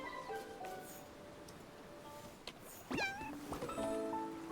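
A cat meows in the Infinity Nikki video game, a rising, bending cry standing out near the end over a steady backdrop of chiming game music and ambient tones.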